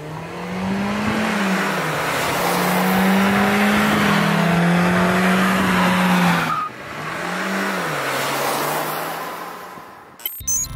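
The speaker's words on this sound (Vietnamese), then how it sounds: "chúng ta hãy cùng thử nghiệm chiếc Hyundai Kona trên đường thử này" A 2018 Hyundai Kona with a 1.6-litre turbo engine drives hard on a factory test track, engine droning and shifting pitch while tires squeal through corners, then a brief pause and renewed acceleration, loud and close.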